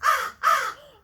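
A crow at a bird sanctuary in Mansfield, Ohio gives two loud, close, harsh caws in quick succession, followed by a fainter trailing call.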